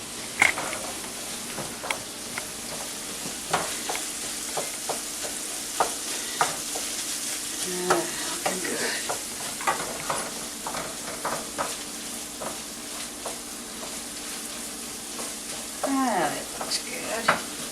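Sausage frying in a pan while country fried steak is made, a steady sizzle with intermittent clinks and scrapes of stirring, fairly quiet and continuous without speech.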